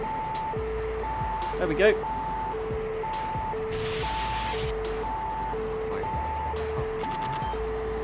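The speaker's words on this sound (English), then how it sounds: "that's the alarm that goes off when you cross the sound barrier as well" In the X-Plane 11 flight simulator a Tu-144 Soviet supersonic airliner sounds its sound-barrier alarm, a steady two-tone electronic beep alternating high and low about twice a second over cockpit engine rumble, with someone speaking briefly.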